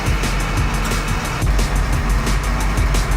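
An LMTV military truck idling after a cold morning start, a loud, close, steady diesel rumble with a fast regular chug throughout.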